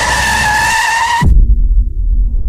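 A car braking hard on a driveway, a loud high tire squeal holding steady for over a second before cutting off abruptly into a low rumbling thud.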